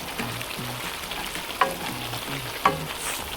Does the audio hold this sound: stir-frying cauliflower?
yes